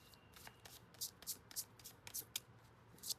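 Tarot cards being shuffled by hand, a quick run of soft papery riffles and flicks, close and quiet, with no talking.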